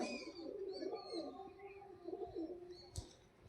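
Soft, low pigeon cooing repeats in gentle phrases, fairly close, with faint chirps and a brief sharp knock near the end.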